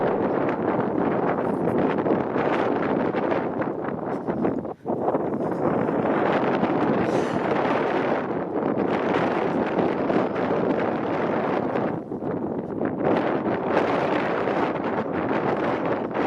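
Strong wind buffeting the microphone along a lakeside waterfront trail in Scarborough, Toronto, a loud continuous roaring rush with gusty surges and one brief dip, no talking.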